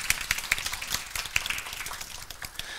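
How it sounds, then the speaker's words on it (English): An audience at a Godot developer conference talk applauds, a scattered patter of individual claps that thins and fades over a few seconds. "you can applaud Clay for his hard work"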